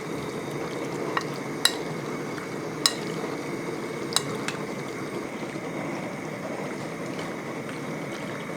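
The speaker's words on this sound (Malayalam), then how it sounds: "അതായത് വെളിച്ചെണ്ണയൊക്കെ ഒന്ന് ചൂടായ ശേഷം ഇതൊന്ന് ഫ്രൈ ചെയ്തെടുക്കണം" Prawns fry in hot coconut oil in a kadai, a steady soft sizzle with a few sharp clicks of a spoon stirring against the pan.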